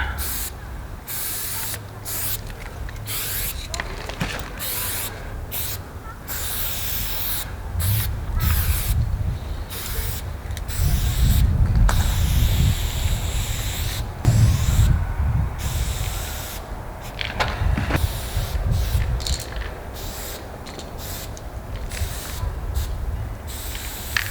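Aerosol spray paint can hissing pink graffiti in repeated bursts, steady and close, with short pauses between passes as a graffiti piece is filled in.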